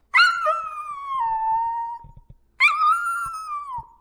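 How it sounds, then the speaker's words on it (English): A Wookiee's howling cry from the Star Wars Holiday Special, two long, loud wavering wails that fall in pitch, separated by a short pause, with faint thuds between them. "He howls at the condition the Imperials left his room."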